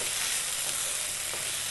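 Potato and cabbage curry stirred in a pan, giving a steady, close sizzle with soft scraping and mixing throughout, no voices.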